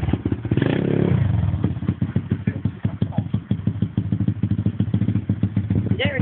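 A pit bike motorcycle idles with a rapid clattering thump, then pulls away as the clutch is let out, the engine note rising briefly at the start and continuing as a steady putter while a voice speaks over it.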